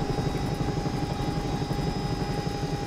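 Helicopter rotor in X-Plane 11 flight simulator, a loud, steady rhythmic chop of blades over a constant engine drone, close and unbroken throughout.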